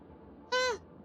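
A cat meows once in the Honkai Star Rail video game, a single clear, fairly loud, drawn-out call that bends downward at the end over a faint background hum.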